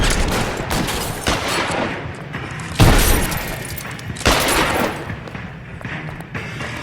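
Gunfire in the crime video game L.A. Noire: repeated loud shots and bursts in a rapid, uneven exchange, with sharp cracks and heavier booms amid a busy shootout.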